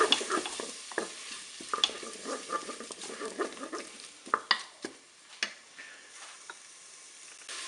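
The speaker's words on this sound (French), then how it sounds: "Je vais saupoudrer avec mon curry. Je mélange." Shrimp dusted with curry are stirred inside a Cookeo multicooker, with irregular utensil scrapes and taps over a soft sizzling bed, close and fairly quiet, with no voices.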